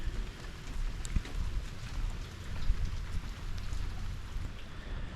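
Steady early-morning rain falls at Wolf Bay in Orange Beach, a dense, even patter on surfaces with a low rumble underneath. It holds constant throughout and no one speaks.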